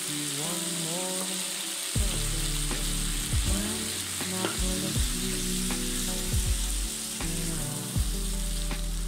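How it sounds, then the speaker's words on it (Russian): Sliced zucchini sizzling steadily in hot oil in a frying pan over medium heat, a constant close crackle with occasional stirring scrapes and clicks. "обжарить на нем кабачки до мягкости на среднем огне"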